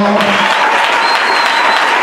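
A church congregation applauds the Lord in a dense, loud, continuous clatter of many hands, with shouted voices mixed in throughout.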